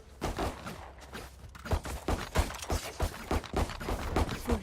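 A weapon being reloaded in a first-person shooter game: a quick sequence of soft mechanical clicks and clacks, moderately near and fairly quiet, with no talking.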